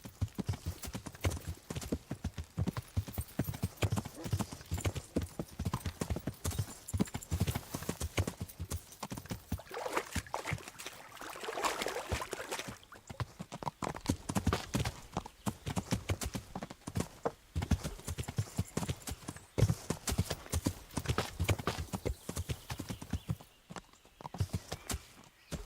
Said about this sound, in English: Come on, horsey.